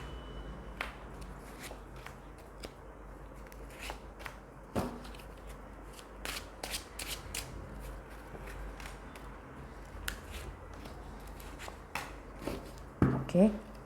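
Tarot cards are shuffled and drawn from a deck in soft, close, irregular riffles and flicks, with someone talking over them throughout.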